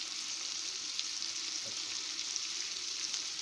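Fried rice ingredients with Maggi seasoning and salt sizzle and fry in a pot as they are stirred, a steady close hiss with faint scraping throughout.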